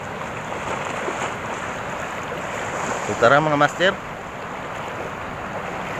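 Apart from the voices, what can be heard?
big ocean waves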